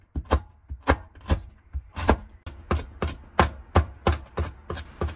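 A knife chops sand ginger on a cutting board in a steady run of about a dozen sharp, close thuds, evenly spaced and loud, with no talk.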